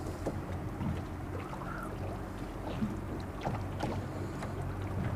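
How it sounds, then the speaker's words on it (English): Wind picks up over the water around a small fishing boat near a bank. It makes a steady, moderate rush, with faint lapping and light knocks against the hull. No voices are heard. "The wind's picking up, it's pushing me towards the bank now."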